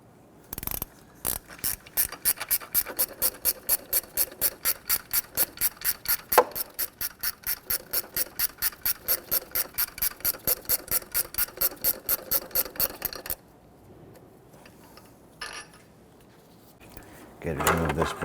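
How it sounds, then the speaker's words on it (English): A ratchet wrench loosens a 14mm bracket bolt on a 1992-1996 Toyota Camry 2.2L four-cylinder engine, clicking in a long, rapid, regular run of close ratcheting before stopping, followed by a few faint handling knocks. "Okay, loosen and remove this upper bolt"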